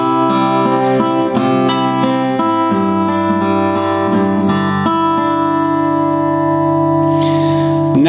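An acoustic guitar strums a chord sequence, sustained chords each ringing into the next, steady and close, with no voices.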